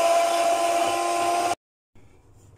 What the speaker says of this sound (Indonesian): Lanjut kita mixer lagi.